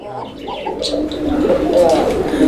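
Low coos of Koka pigeons sound close by, soft rolling calls layered over a busy background with a few faint chirps.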